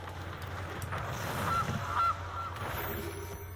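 A brief cartoonish goose honk from a goose card in MTG Arena, a couple of short nasal honks over steady game background music.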